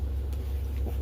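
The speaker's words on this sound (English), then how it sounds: "Sorry if you can hear the dryer in the background." A household clothes dryer runs steadily in the background, a constant low rumbling hum with no talk over it.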